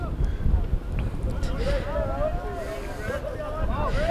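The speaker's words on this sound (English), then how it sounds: "It is pretty windy." Strong wind buffets the microphone at an outdoor boys' high school soccer game between Upper St. Clair and Mt. Lebanon, a steady broadband rumble running throughout beneath a commentator's voice and distant crowd sound.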